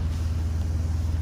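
A Heritage truck's engine heard from inside the cab, a steady low rumbling hum with a faint cabin hiss and no voices.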